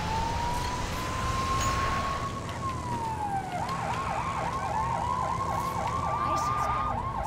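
A police siren in the video game Lego City Undercover wails in a long rising-and-falling sweep, then switches to a rapid repeating yelp, loud and close over steady engine noise.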